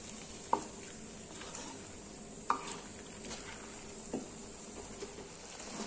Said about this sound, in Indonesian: Aduk merata dan masak sekitar 10 menit ya bunda.